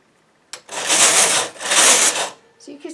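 Main carriage of a home knitting machine sliding across the needle bed, two sustained raspy swooshes about a second each, fairly loud and close, with a brief clack at the end.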